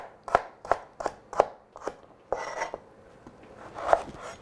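A knife chops carrots on a board while preparing a Moroccan tajine-style meat lasagna. Crisp, close, fairly quiet strikes land in a steady rhythm, about ten of them, with no talking.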